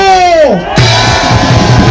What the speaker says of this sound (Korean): 여러분 독게 함성 한번 보내주십시오